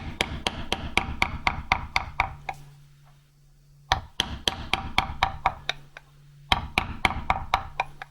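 A very coarse hand file working metal, with rapid regular rasping strokes in quick bursts, a pause of about a second between runs, close and distinct.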